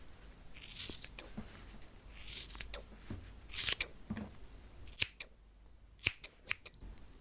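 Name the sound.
scissors cutting hair, ASMR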